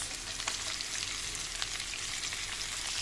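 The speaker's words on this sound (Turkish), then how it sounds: "Arkadaşlar kavrulan etimize iki diş sarımsak, bir küçük boyda havuç ekliyoruz." Meat frying in a pan, with two garlic cloves and a small carrot added, for a Turkish meat and vegetable dish. A steady, close sizzle runs throughout with no talking.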